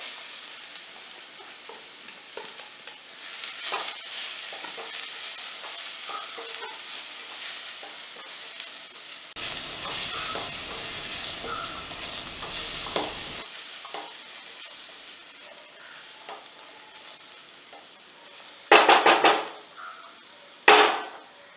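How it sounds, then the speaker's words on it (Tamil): Carrots with finely chopped ginger and garlic sautéed in a pan for carrot thoran, a steady close sizzle with scraping stirs, a louder burst of frying midway and a couple of sharp clanks of a utensil near the end. "எல்லாத்தையும் சேர்த்து நம்ம வதக்கிக்கலாம்"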